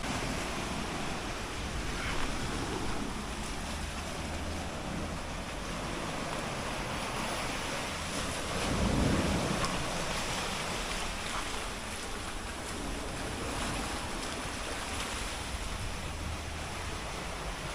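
Surf rolling onto a quiet beach in Portland, Jamaica: a continuous, fairly loud wash of waves with gusty wind noise, swelling briefly midway, with no voices.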